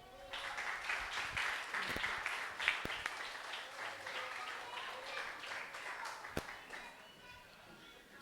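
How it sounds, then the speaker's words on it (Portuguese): Church congregation at a family worship service claps for the Lord, a fairly quiet, steady wash of applause with a few sharper individual claps standing out and faint voices mixed in. "Aplauda o Senhor."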